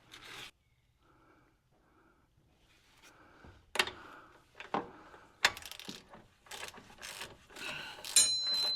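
Wrench or ratchet cinching down tie rod parts on a 2001 Ford F-350, a series of short metallic clicks and clanks at close range, quiet at first and then growing louder and busier toward the end, with no talking.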